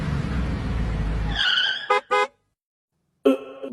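Car in an animated video pulling up with a loud engine roar that cuts off abruptly, then a series of short, loud horn-like or tire-squeal bursts separated by silence.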